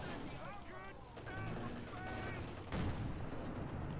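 Anti-tank gun firing in Company of Heroes 2, with a sharp report near the three-second mark amid ongoing battle noise of gunfire and explosions; a commentator's voice is heard over the game sounds.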